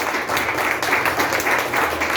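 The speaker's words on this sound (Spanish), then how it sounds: "Ese aplauso para ti, Señor eterno, Dios poderoso." A church congregation applauds together, a dense, steady wash of clapping from many hands that holds fairly loud throughout.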